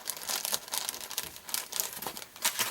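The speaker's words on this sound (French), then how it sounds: "Je vais vous le déballer." A large crown-shaped cutting die from Melody being unwrapped from its plastic packaging, a continuous close crinkling and rustling of wrapping for a few seconds with no talk.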